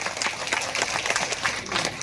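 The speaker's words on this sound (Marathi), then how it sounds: "त्याबद्दल एकदा आपण अभिनंदन करून त्यांच्या टाळ्या वाजवा." Audience at a Datta temple function in Nagpur claps together in a steady, moderately loud round of applause with no talk over it.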